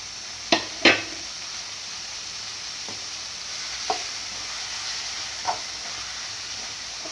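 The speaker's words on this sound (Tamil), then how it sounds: "பாதி அளவு வதங்கி வந்த பிறகு தக்காளி சேர்த்துக்கலாம்." Onions and tomatoes sauté in a pan with a constant soft sizzle, broken by a couple of loud spoon knocks against the pan early on and a few lighter scrapes of stirring later.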